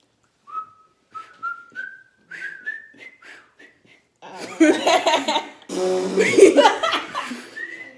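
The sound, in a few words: person whistling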